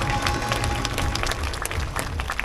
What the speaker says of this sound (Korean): 다시 한번 박수 한번 주시기 바랍니다